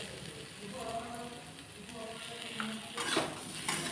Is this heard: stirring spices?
yes